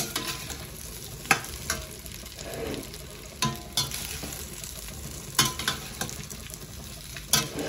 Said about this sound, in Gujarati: બરાબર હલાવી દઈએ.